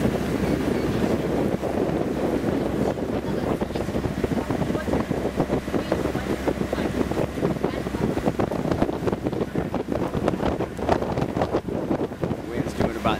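Sailboat motor sailing on the Intracoastal Waterway with the jib out, engine at 2,000 RPM doing about 8 knots, a steady low drone under wind buffeting the microphone and water rushing along the hull.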